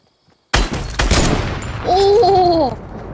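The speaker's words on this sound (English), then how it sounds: "that was a nasty headshot, Chris." Gunfire in the video game Fortnite during a squad match, an abrupt loud burst of shots followed by a sustained noisy roar with a warbling whistle-like tone, close and dominant.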